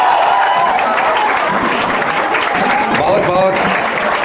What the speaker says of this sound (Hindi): और मैं स्टूडेंट से चाहूँगा कि थोड़ा तालियों की गड़गड़ाहट होनी चाहिए।